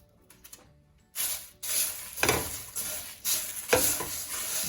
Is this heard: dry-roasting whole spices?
yes